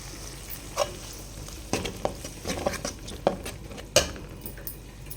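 Ground masala spice paste with a pinch of turmeric fries in oil in a pan for a fish curry, giving a steady soft sizzle broken by sharp scraping stirs of a spoon against the metal.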